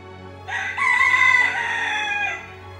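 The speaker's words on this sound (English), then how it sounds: "The rooster says cock-a-doodle-doo." A single loud rooster crow rings out close by, a drawn-out cock-a-doodle-doo rising then trailing off over a faint background hum.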